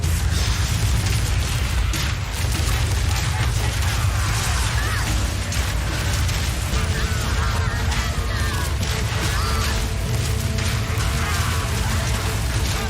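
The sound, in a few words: gate mechanism destroyed, Path of Exile 2 video game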